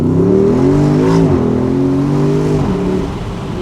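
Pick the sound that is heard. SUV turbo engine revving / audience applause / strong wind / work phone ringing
SUV turbo engine revving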